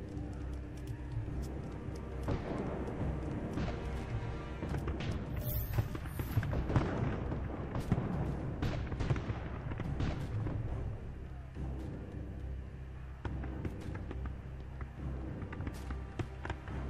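Smoke bombs burst in Assassin's Creed Chronicles, a few soft thuds and a hissing burst midway, set amid game noise and music with someone talking over it.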